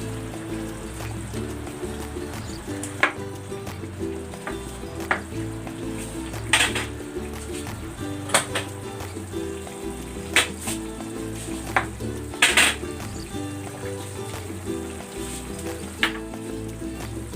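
Garlic pork steak simmers in a pan of sauce with a steady, close sizzle and bubbling, punctuated by occasional sharp clinks of a utensil against the pot.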